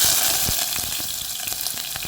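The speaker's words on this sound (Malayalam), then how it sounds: "കടുക് പൊട്ടി വരുന്നുണ്ടെ നമ്മുടെ അരിഞ്ഞു വെച്ചിരിക്കുന്ന ഉള്ളിയും" Oil sizzles loudly and steadily as mustard seeds and chopped shallots fry, with sharp crackles and pops scattered through the hiss.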